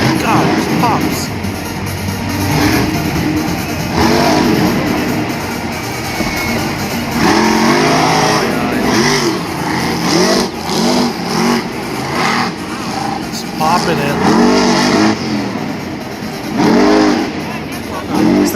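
A monster truck at a 2019 Monster Jam event in Philadelphia roars and revs continuously while spinning cyclones despite mechanical trouble, its loud engine surging in waves with arena crowd noise and commentators talking over it.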